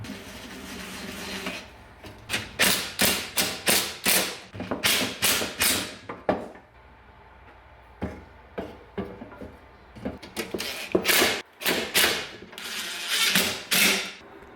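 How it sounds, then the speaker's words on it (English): Parts of a GSXR 1000 motorcycle radiator are put together by hand, with a close series of sharp clicks, taps and clattering knocks in quick uneven bursts separated by brief quiet gaps. "I'm going to assemble the radiator now."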